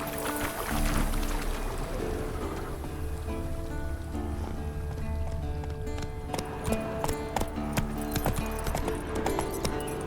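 Hooves clip-clop steadily as a horse gallops in The Witcher 3: Wild Hunt, a quick, even beat running through the whole stretch amid rain-like ambient patter and game music, fairly loud and close.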